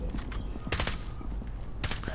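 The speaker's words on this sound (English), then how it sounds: "they're shooting each other" Gunfire exchanged between players in a multiplayer shooter game, a few scattered bursts of shots at mid distance over a steady game ambience, with faint voices in the background.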